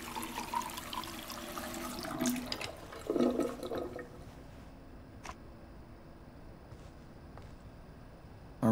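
Water running from a tap in the video game Life Is Strange 2, a steady splashing stream that fades out partway, leaving quiet ambience with a few faint clicks.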